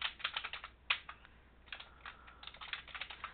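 Someone types quickly on a computer keyboard nearby, a flurry of light, clicky key taps with a short pause in the middle, quiet and without any talking.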